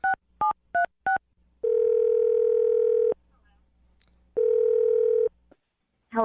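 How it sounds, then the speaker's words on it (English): A landline telephone dial tone plays alone, preceded by four short evenly spaced keypad dialing beeps, then two long steady tone bursts with a gap between, ending on a brief sound at the very end. "All right, I'm going to dial her phone number right now."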